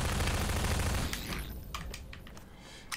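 Rapid SMG fire in Half-Life 2 rattles loudly for about a second, then breaks into a few scattered, sharper cracks and clicks that fade to quieter bursts.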